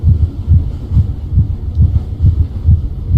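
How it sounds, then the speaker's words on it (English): A heartbeat in a black and white horror video game thumps in a steady, loud, close double-beat rhythm, about seven beats repeating evenly with no voices. "The heartbeat's bad enough."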